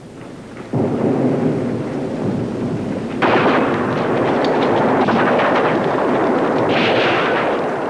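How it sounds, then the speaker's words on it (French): Heavy WWI artillery bombardment at the Battle of Verdun, February 1916: a continuous, loud rumbling roar of massed guns, with booming blasts growing denser and more intense partway through, no speech. "L'attaque commence à l'aube du 21 février 1916 par le plus formidable bombardement de la guerre"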